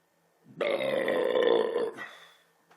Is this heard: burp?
yes